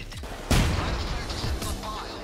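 C4 explosion in the video game Payday 2 during a casino heist, a sudden loud blast with a rumbling decay and a second crack shortly after, over game background noise.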